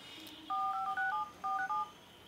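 A Samsung Galaxy Grand phone dialer running a Slimbean ROM plays a quick run of DTMF keypad tones, about eight short clean beeps in two bursts, clear and close with quiet room tone between.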